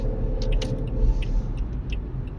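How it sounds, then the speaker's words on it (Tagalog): A car driving home along the road, its steady low engine and road rumble continuous throughout, with a few faint high clinks overhead and no talk. "Nag-drive tayo, pauwi na po ng bahay."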